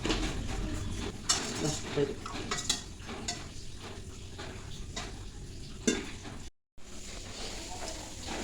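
Chicken masala being mixed with yogurt and two spoons of cornflour in a bowl: close clinks and scrapes of a spoon against the dish, with soft mixing noises and a brief dropout partway through.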